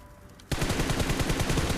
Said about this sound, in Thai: ไอ้นี่มันแบบจะยิงรถให้ระเบิด